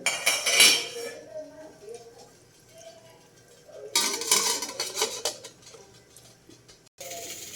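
A pot set into a steamer over boiling water makes close metallic clanks and scrapes in separate bursts, with quieter gaps of low bubbling between them.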